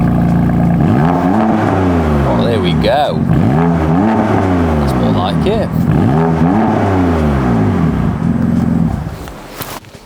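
A sports car engine revs repeatedly, rising and falling in sweeping bursts, loud and close, with someone speaking briefly over it.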